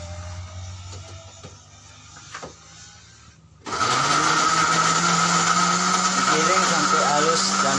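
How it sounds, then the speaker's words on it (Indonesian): An electric blender grinds spice paste for Aceh noodles, starting abruptly after quiet background noise and then whirring loudly and steadily at high speed. "Sekarang kita blender bumbu minyak. Kita blender bumbu mie."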